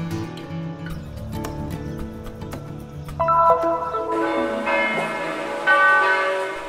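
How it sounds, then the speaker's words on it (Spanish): Several church bells of the Church of San Salvador in Jerusalem ring together in overlapping, resonant peals, loud and sustained, with strikes layering into a rich clanging wash. "resuenan las campanas de la Iglesia de San Salvador en Jerusalén"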